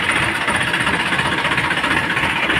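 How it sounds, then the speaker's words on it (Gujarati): A tractor engine runs close by with a steady, throbbing diesel chug, loud and unbroken throughout. "હવે પાછું લાગે છે ટ્રેક્ટર. જો ટ્રેક્ટર પાછું લાગે છે."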